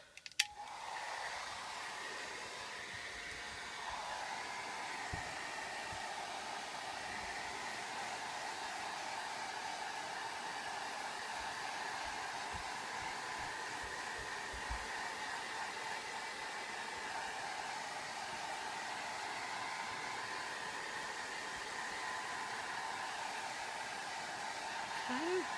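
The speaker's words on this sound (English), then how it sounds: "I'm really going to hit this with the dryer." Hair dryer blasting steadily on paint in an art journal, a loud continuous whoosh with a drone that holds almost unbroken throughout, with faint background sounds.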